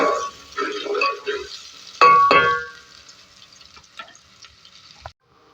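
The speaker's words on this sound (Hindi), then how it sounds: "कुछ साबुत गरम मसाले मसलन के तौर पे 1 तेज़पात और 1 बड़ी इलायची और 1 दालचीनी की लकड़ी यानी सैनीमन, और इसको भी डाल के अच्छी तरीके से फ्राई करेंगे" Whole spices, bay leaf, black cardamom and a cinnamon stick, frying in oil with onions, making a close sizzle with scraping stirs and two sharp metallic clanks against the pan before the sizzling quiets.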